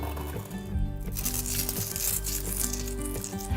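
Sugar snap peas and other vegetables being tossed with sesame oil and salt in a baking tin, a soft steady rubbing and scraping close up with no talking.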